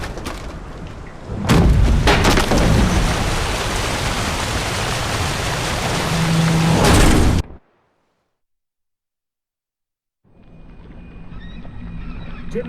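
In The Witcher 3, a storm at sea roars as broad, loud rushing noise with wind, waves and booming thunder cracks, then cuts to silence before the storm noise returns.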